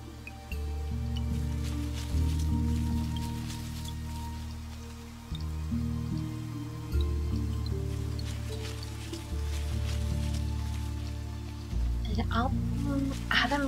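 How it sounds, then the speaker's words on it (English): Rain falls in the video game Niche, a soft steady patter and drip running under layered music tones throughout. "We're lucky it is raining."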